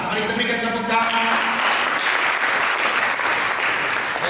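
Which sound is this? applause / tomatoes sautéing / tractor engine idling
applause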